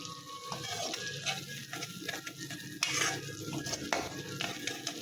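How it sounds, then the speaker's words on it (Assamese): Onions and sesame seeds fry in a pan over high flame, giving a steady sizzle while a utensil stirs and scrapes against the metal, fairly quiet and close, with no talking. "আৰু এইখিনি অকণমান ভাজিব লাগিব"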